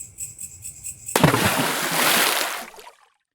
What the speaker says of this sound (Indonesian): terdengar suara benda yang jatuh ke sungai